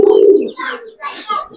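Kaldom pigeons coo close by, a low throaty rolling coo followed by softer, breathier calls in short bursts, with faint voices nearby.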